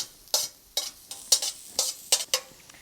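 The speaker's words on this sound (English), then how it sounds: "And then we need to add the garlic. And stir it until it gets fragrant." Garlic stirred and fried in oil in a pan for a spicy Khmer tofu dish, a close series of about eight bright scraping strokes over a steady low sizzle, each stir bursting out crisp and loud.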